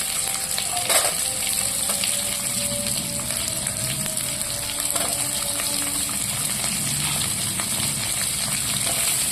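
Shallots and garlic fry in oil with mustard seeds for a curry-leaf kuzhambu, giving a steady, close sizzle that never lets up, with a few faint clinks of stirring throughout.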